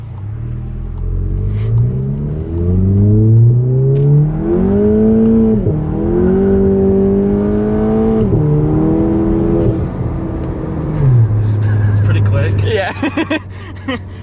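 A VW MK7 GTI with a Cobb Stage 1 tune being driven, its engine rising in pitch through the gears with clear drops at each shift, loud and close from inside the car, ending in a steady cruise with faint rattles.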